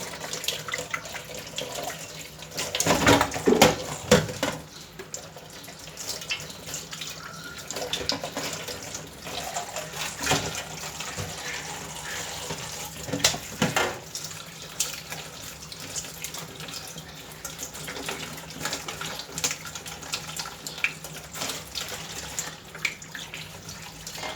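A tilapia is washed under a running kitchen tap to rinse the gills and blood away. The water runs continuously and close by, with a louder splashing surge early on and then a steady flow, and no talking.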